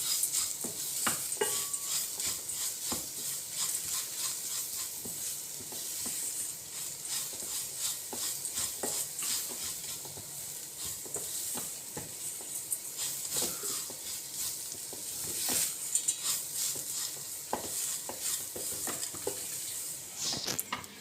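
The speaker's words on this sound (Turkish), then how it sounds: "Bunları da hafif kavuracağız arkadaşlar." Barley vermicelli is sautéed in a pot with soft, steady sizzling and frequent scraping stirs of a utensil against the metal, close and fairly quiet, with no talking.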